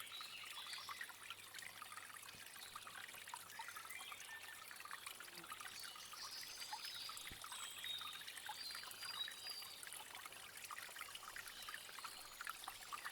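Water flows at the waterside with a faint, continuous trickling and babbling that holds steady throughout, soft and distant without a break.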